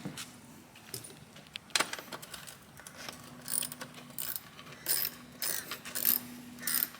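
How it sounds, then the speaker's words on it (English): Ratchet clicks and metallic tool handling while electrical box bolts come off an off-road vehicle of the Trailmaster or Hammerhead kind, in irregular close bursts with brief pauses, no talking. "So right now, I'm going to take off our electrical box."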